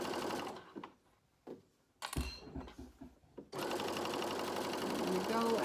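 A sewing machine runs in short bursts and then a longer steady stretch, backstitching and sewing a quarter-inch seam on a youth gaiter, close by, with someone talking over the pauses.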